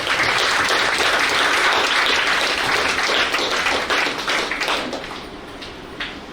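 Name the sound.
applause for the student toppers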